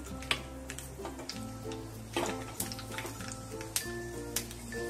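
Fenugreek and mustard seeds sizzle and crackle in hot oil, a steady frying hiss peppered with small sharp pops and ticks, close up with no voices.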